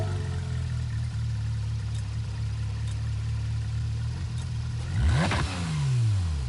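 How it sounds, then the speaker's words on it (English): Porsche engine in the Gran Turismo 7 video game, idling steadily and then revving up sharply in a rising sweep before settling into a second, smoother climb. "I think they added the engine noises when you pick it."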